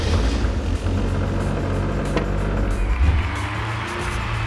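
A car fitted with a digital dash and a new linear oil pressure sensor fires up. The engine settles into a steady, close rumble with a brief sharp click partway through and no voices.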